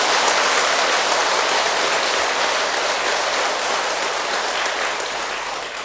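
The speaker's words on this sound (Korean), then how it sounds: "박수 칠 만하자니?" Dense, steady applause from an audience at a Buddhist monk's dharma talk, filling the whole stretch at an even level and easing slightly toward the end, with no talking over it.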